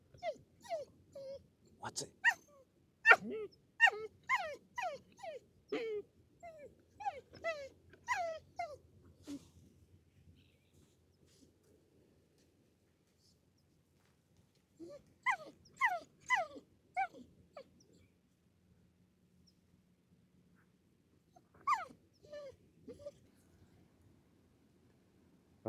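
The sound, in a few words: dog whimpering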